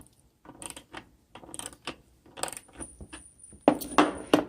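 The top screw of a rear sight pusher tool on a Glock 19 slide is loosened, producing small metallic clicks and ratcheting ticks in short bursts close by, ending in a louder cluster of taps.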